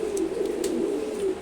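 A silver gora pigeon chick, about four to five months old, coos softly and continuously nearby in a low wavering tone, with no voices.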